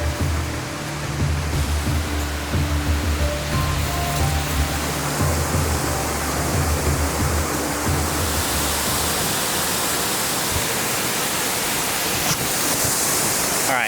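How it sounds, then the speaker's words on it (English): A waterfall in a shrubby Washington woodland rushes with a constant broadband roar, loud and unbroken from start to end. "All right, so we found the waterfall."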